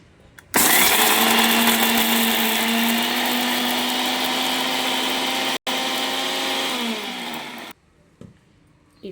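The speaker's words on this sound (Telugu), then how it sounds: "ఇప్పుడు మిక్సీ పట్టుకోండి." A kitchen mixer grinder pulverises dried red chillies, garlic, onion and salt for a Rayalaseema-style chutney, a loud steady motor whine running for about seven seconds before cutting off.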